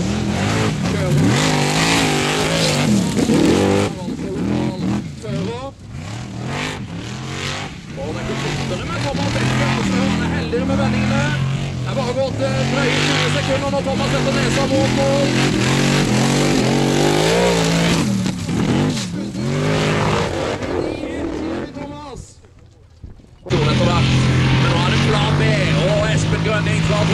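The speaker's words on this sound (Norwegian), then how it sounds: "Så tar Ultrud i sin jordbil" An off-road racing car from the Modified class runs hard on a dirt track at a Formula Offroad event in Mysen, Norway, its engine roaring loudly and almost continuously with revving surges, a commentator talking over it, and a brief dip near the end.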